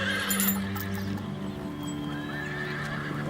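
A horse in a paddock neighs close by, with soft hoof clops alongside; no one speaks.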